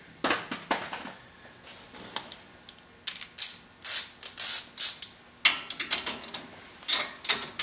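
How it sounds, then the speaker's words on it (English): A hand ratchet tightens the upper ball joint bolts on a Ford Explorer, giving bursts of quick metallic clicking with short pauses between strokes, close up and alone. "Now we're going to tighten it with the ratchet."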